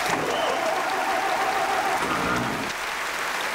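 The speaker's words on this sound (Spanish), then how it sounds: "un aplauso para Brady" Audience applause for a guest named Brady at a televised Olympic-themed program, a steady, dense wash of clapping throughout, loud and continuous with a brief dip near the end.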